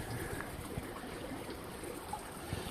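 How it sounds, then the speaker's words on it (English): A small creek flowing in the Trinity Alps mountains, a soft, steady trickle and burble heard alone. "Got a little creek right here,"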